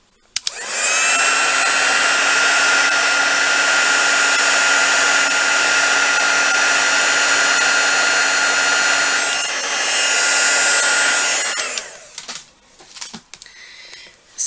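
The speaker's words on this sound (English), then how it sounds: "So back on with the embossing tool." A heat embossing tool blows hot air in a continuous loud, steady whine for about eleven seconds, dipping briefly mid-way, then switches off, leaving faint handling clatter.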